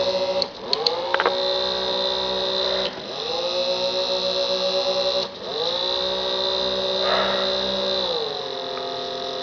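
A brushed electric motor on an RC boat, driven through an electronic speed control, whines steadily with pitch sweeps as it speeds up and reverses, sustained and fairly close throughout.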